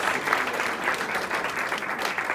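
Church congregation clapping as an offering of applause during a Spanish-language service, dense and steady hand-clapping that fills the room evenly, with no voices rising above it.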